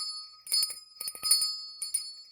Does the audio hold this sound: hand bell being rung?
yes